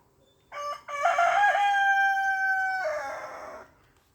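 A rooster crows once close by, a clear cock-a-doodle-doo with a short opening note, a long sustained middle and a falling end, against quiet surroundings.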